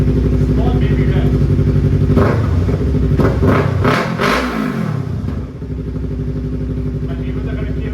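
A Yamaha R3 motorcycle with a loud full-system aftermarket exhaust idles with a rough rumble, then is revved in a rising and falling vroom before settling back to idle close by.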